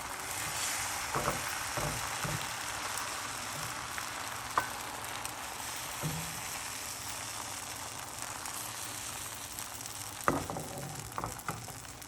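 Beaten egg sizzles in a hot pan as a thin layer for a rolled omelet, a steady soft frying hiss with a few light clicks and taps from utensils against the pan.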